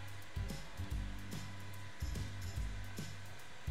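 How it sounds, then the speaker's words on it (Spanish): A sewing machine stitches the straps of a girl's outfit, running in several short bursts of close, steady motor whir separated by brief pauses. "Ahora vamos a coser los tirantes."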